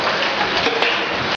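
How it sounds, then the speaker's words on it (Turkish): Heavy downpour with hail in Milas, Turkey, during an evening storm: a dense, steady roar of rain hitting surfaces, loud and close, with faint ticking impacts throughout. "Milas'ta sağanak ve dolu yağışı etkili oldu."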